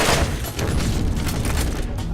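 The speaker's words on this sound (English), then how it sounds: "I hate Tediore grenades." A Tediore grenade explodes in Borderlands, a dense, loud roaring blast that fills the whole moment with rumbling debris and crackle, no voices over it.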